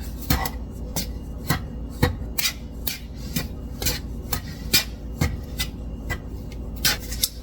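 Ingredients mixed in a bowl with steady rhythmic scraping and rubbing strokes, close and fairly loud, repeating at a brisk even pace with a low background rumble.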